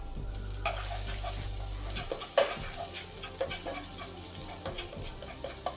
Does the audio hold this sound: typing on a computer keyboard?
no